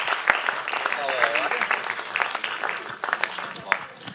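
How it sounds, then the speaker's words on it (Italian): An audience at the final evening of the Premio Alberto Cesa folk music contest in San Daniele applauds the jury, a dense patter of clapping with a few whoops, steady for about four seconds. "Un applauso alla giuria"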